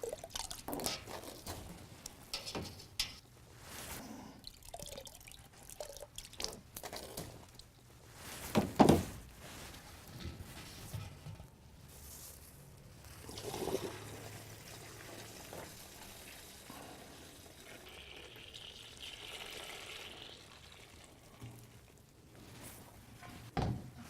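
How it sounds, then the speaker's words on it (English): Hopped beer wort is poured into a sanitized fermenter, a continuous splashing, dripping liquid stream with irregular sloshes and drips, fairly close and moderately loud. "add your wort to the fermenter"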